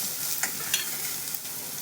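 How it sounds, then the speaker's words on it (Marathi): Onion and tomato stir-fried in a pan for an egg roll: quiet continuous sizzle with three short scraping stirs, all fairly faint and without speech. "आणि चांगला हलवून घे लाल झालाय आजी कांदा आता काय करू आता टोमॅटो टाक"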